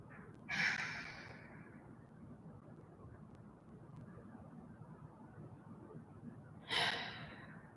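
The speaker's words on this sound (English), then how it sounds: "4 more deep breaths." Two slow, deep breaths are drawn during a yoga class, each a soft airy rush several seconds apart, close and quiet over a low steady room hum, with no talk.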